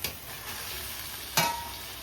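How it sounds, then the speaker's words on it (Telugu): Fried ivy gourds go into an oily masala and are stirred, a faint steady sizzle with one sharp scrape of the spoon partway through. "ఇప్పుడు మన ఈ ముందు వేయించుకున్న ఈ దొండకాయలు ఉన్నాయి కదండి, ఇవి ఇప్పుడు వేసేయండి."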